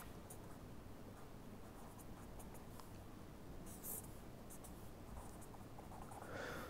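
Marker or chalk drawing a tire shape on a board during an engineering lecture, a steady scratchy stroking texture running throughout at moderate closeness, with a faint hiss behind it and no talking.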